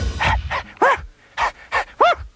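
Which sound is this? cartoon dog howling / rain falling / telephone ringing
cartoon dog howling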